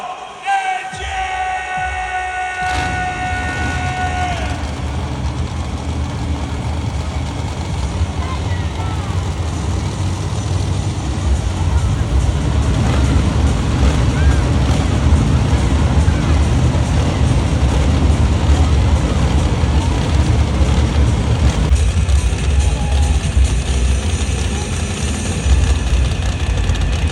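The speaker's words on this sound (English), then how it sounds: "Drivers, start your engine!" Hot Wheels monster truck engines at a live show in Glasgow start up together and rumble steadily and loudly, growing fuller over the clip, with arena crowd noise and a brief tonal announcement or horn at the start.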